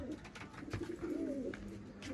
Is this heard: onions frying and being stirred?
no